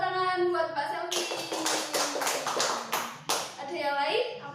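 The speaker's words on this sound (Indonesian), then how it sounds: "tepuk tangan buat Mbak Selfie" Children in a grade 4 elementary classroom clap for a classmate, a burst of quick, close hand claps lasting a few seconds, with a teacher's voice and kids' voices around it.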